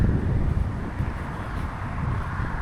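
Wind gusts across an outdoor park in Red Bay, Alabama, buffeting the microphone as a steady low rumbling blow that swells and eases slightly, with no voices.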